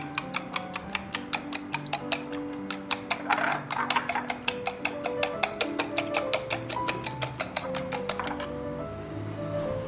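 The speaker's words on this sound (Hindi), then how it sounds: "मैं इस तरह अंडा फेंट लूँगी" An egg is whisked in a bowl, with a fast, even run of sharp clinking strokes that continues for several seconds and then stops. Soft ringing tones sound underneath.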